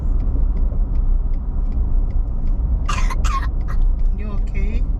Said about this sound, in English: You can't be coughing.